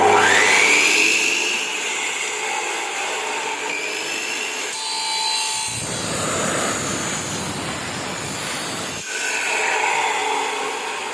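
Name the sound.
machine cutting metal grating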